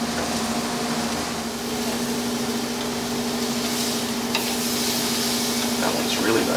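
Jamaican jerk chicken cooks slowly over low heat, giving a steady, even sizzle with a constant low hum beneath and no talking.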